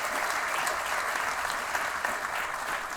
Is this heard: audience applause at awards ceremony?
yes